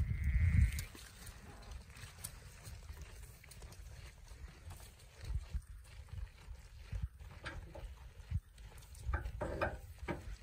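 Sheep bleating on a farm in late winter while feeding on haylage, with a loud close bleat at the start followed by fainter, scattered calls and rustling outdoor noise.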